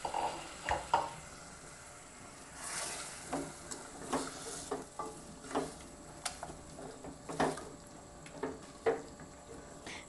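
Cabbage stirred and fried with spices in a pan for a urad dal dish, with intermittent scrapes and clinks of a spoon over a quiet sizzle, close and without talk.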